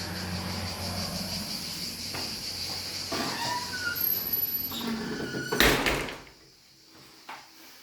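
A very large balcony door in a house slides and creaks open, with scraping, a squeak and a sharp bang near the end, while crickets chirp outside.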